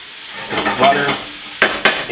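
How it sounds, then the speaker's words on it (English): Butter sizzles in a hot pan with a close hissing swell, followed by two sharp utensil scrapes or taps against the pan. "Now I'm going to add some butter to the pan."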